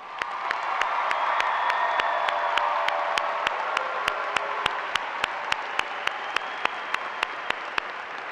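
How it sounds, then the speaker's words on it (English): Sustained applause from a large crowd at a spring university graduation recognition ceremony for health and human services graduates, a dense steady wash of clapping holding for the whole stretch and easing slightly toward the end. "Let's give one more round of applause."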